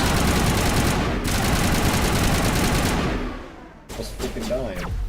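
Heavy gunfire in Mass Effect Legendary Edition against Geth, loud rapid bursts blending into a continuous roar for about three seconds, fading, then returning briefly with scattered shots and game noise.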